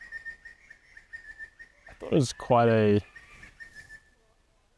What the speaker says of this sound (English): We've got a few bird friends over here. I don't know if you can hear through the mic. They're pretty loud.